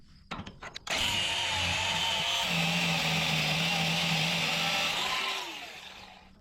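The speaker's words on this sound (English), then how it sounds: "I got to take the grinder and start by cutting off these bolts here" An angle grinder cuts off bolts from a hay rack, with a few short clanks at the start before a loud, sustained, high-pitched grinding whine that runs for several seconds and then spins down.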